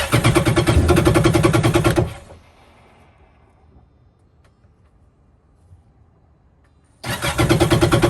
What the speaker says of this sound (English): So I'm gonna go ahead and give it a few cranks and see how much more oil I can get out of it.